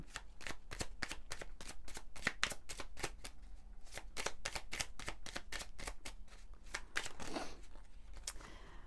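Oracle cards shuffled for a card reading, a steady run of quick riffling flicks repeating close up through the whole stretch, fairly loud and unaccompanied by any voice.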